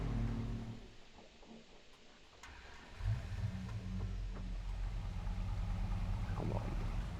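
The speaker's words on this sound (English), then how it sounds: "Let the engine warm up." A small car's engine in a roleplay driving game idles and rumbles as it warms up, a low steady drone that settles in after a brief dip, with no talking.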